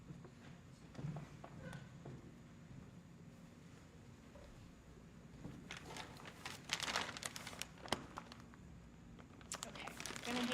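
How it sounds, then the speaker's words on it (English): A plastic evidence bag handled in a courtroom during a murder trial, giving soft crinkling and rustling that builds into louder bursts of crinkles toward the end, with low talk in the room. "I'm gonna hand you this plastic bag"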